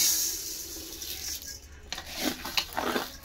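Water pours into a cooking pot of fried mung dal for khichuri, a steady close splashing rush with a few brief louder gurgles toward the end.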